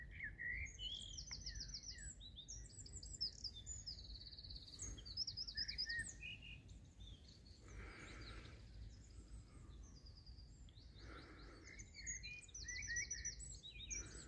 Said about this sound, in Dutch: Ik nog even het moment van het geluid van de vogels.